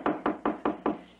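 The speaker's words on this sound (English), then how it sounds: "So, knock." Five quick, evenly spaced knocks on the door of a house, crisp and close with a short resonant decay after each rap, no talking.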